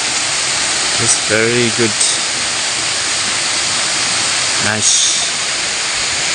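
Steady roar of Gembleng waterfall in Sidemen, heard from the top of the falls as a loud, even wash of water, with someone briefly speaking over it twice.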